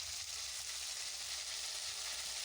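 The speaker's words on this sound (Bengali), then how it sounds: "আদা জিরে বাটাটা একটুখানি ভেজে নিচ্ছি" Ginger and cumin paste fries in a pan for a dahi potol dish, giving a steady, dense sizzle that holds even and close throughout, with no voices.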